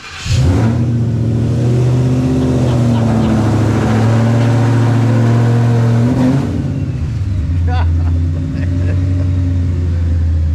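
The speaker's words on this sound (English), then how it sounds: "cue the cold start of the 250" A 250 engine beside a 1993 GT Fox Body gives a cold start, cranking and catching into a loud, deep idle that holds steady, with voices talking over it.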